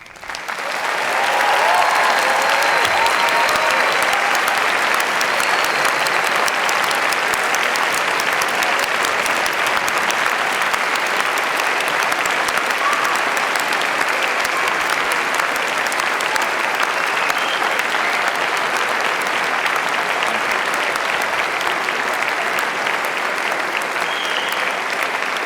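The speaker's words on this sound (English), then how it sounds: "giving them a warm and enthusiastic round of applause" Audience at a Cardiff University graduation ceremony gives long, sustained applause, a dense and even wash of many hands clapping in a large hall that stays steady throughout.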